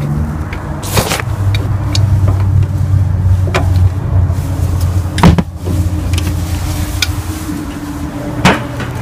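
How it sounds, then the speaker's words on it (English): A big wrench loosening a nut on a Graco Reactor E-XP2i inlet strainer, with a few sharp metallic clanks and knocks close by over a low steady mechanical hum. "we're going to take our big wrench here. We're going to loosen this nut off."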